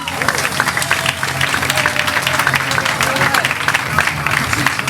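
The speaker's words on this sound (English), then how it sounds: "Please start clapping now" A comedy club audience in Burbank claps for the night's last performer, a dense, steady roar of applause with crowd noise and some voices mixed in, sustained and loud throughout.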